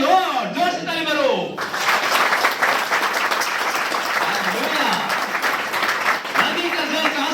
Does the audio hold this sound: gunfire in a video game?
no